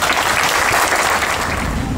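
Steady, dense applause from a crowd gathered at the dedication of a town square, a continuous wash of many hands clapping at even loudness throughout.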